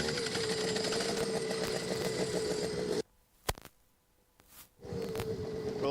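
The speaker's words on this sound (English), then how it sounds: "as you can hear, the engines are firing up" Senior club racing kart engines at a championship round, a loud buzzing roar of several engines that cuts out abruptly, leaving near silence with a single sharp pop, then the engine noise returns.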